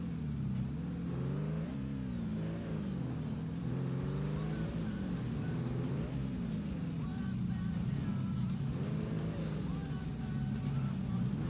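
A video-game ATV from ATV Offroad Fury 4 drives offroad, its engine droning continuously and loudly with rising and falling pitch as it revs.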